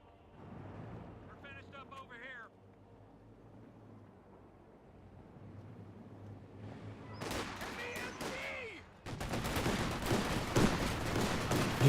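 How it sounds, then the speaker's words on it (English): MG34 machine gun fire in Company of Heroes 2 rattles in bursts amid battlefield noise, growing louder toward the end, with a commentator's voice heard earlier. "You now have the MG34 taking a bit of fire there"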